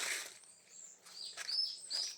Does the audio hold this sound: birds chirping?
yes